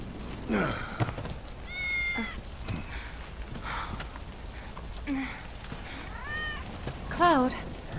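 A cat meows several times in Final Fantasy VII Remake, short rising and falling calls spread across the moment, fairly close and clear over a low game background with faint murmurs.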